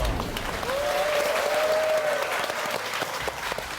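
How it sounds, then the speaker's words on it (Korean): An audience at a Korean liberation anniversary special program gives a standing ovation, with steady, full applause filling the room for a few seconds. A faint tonal sound runs briefly under the clapping. "기립박수 일어났어요"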